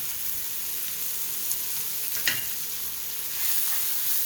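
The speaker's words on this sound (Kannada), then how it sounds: "ಟೊಮೊಟೊ ಎಲ್ಲ ಫ್ರೈ ಆಯಿತು ಚೆನ್ನಾಗೆ ನೋಡಿ" Tomatoes fry with salt in a pan for an egg dish, giving a steady, moderately loud sizzle with a brief stir or scrape partway through and no talking.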